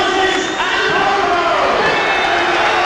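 A boxing arena crowd at a title fight cheers and roars continuously, loud and dense, with shouts rising out of the din and a commentator's voice underneath.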